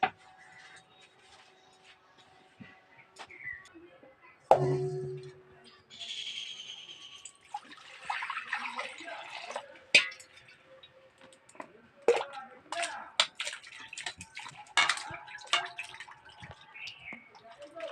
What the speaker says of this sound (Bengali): এই যে জলে আমগুলো ভালো করে ধুয়ে নিচ্ছি